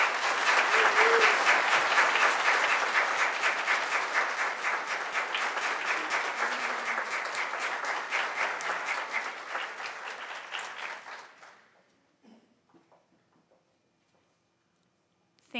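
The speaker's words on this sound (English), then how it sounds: "Please give a nice warm round of applause for Sam." A crowd applauds steadily for about ten seconds, the clapping gradually fading out into near silence.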